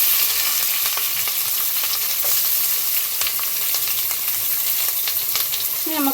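Cardamom, garlic, ginger and green chili crackle and sizzle in hot oil in a pan, a loud, dense, continuous frying hiss with scattered pops and a faint stir near the end.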